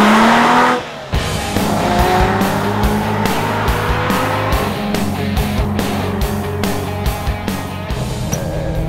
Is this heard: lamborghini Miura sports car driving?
yes